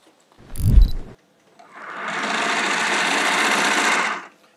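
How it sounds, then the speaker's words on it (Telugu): Sewing machine stitching a brand label onto a latex mattress in a factory, a brief low thump followed by a steady buzzing run of stitching that lasts about two and a half seconds, then stops. "ఇది స్టిచ్చింగ్ ప్రాసెస్ అనమాట."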